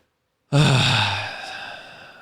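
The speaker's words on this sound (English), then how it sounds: "Breathing heavy into the microphone." Heavy breathing straight into a microphone: a single long, loud exhale or sigh that starts abruptly after a brief silence, close and breathy, then fades slowly.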